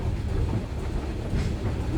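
A Strasburg Rail Road passenger train rolls along the tracks, heard from inside a car as a steady low rumble with rhythmic wheel clatter and rattling, fairly loud and continuous.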